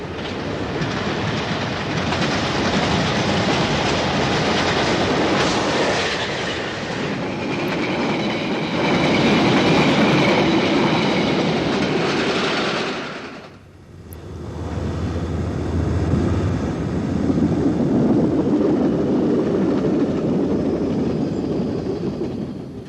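London Underground trains run along the rails with a loud, steady rumble and rattle, broken by a brief dip partway through before the roar returns.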